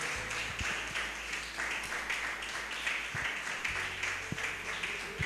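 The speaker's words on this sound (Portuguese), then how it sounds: "dê uma salva de palmas bem forte a ele" A church congregation claps for Jesus, a steady wash of many hands at moderate volume, with a low sustained instrumental tone underneath and occasional louder individual claps.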